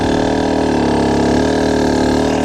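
A dirt bike engine revs steadily as the throttle is twisted and held, a loud, close, continuous drone with a slight rise in pitch partway through and no pauses.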